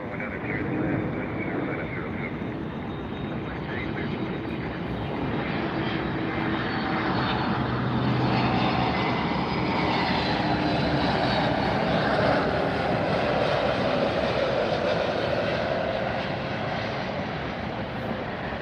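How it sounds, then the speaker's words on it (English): An American Airlines Airbus A321neo jet airliner roars steadily as it approaches to land at Miami, a broad loud engine rumble with whining tones that slowly shift pitch, sustained throughout. "another American Airlines Flight 3050 coming in, an A321 Neo"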